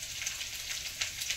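Mustard oil heating in a pan for a chicken curry gives off a steady close hiss of bubbling and sizzling with small crackling pops, heard alone.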